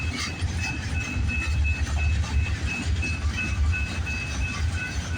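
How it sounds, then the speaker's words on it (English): An eastbound CPKC freight train led by locomotive 8647 rumbles past nearby, with steady heavy low rolling noise, rhythmic wheel clatter and a faint high squeal running throughout. "What do we got for that eastbound CPKC train?"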